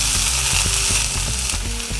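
Onions sautéing in a spoonful of oil in a pan for a vegetable eggless omelette, a steady loud sizzle with faint rhythmic scraping or stirring ticks throughout.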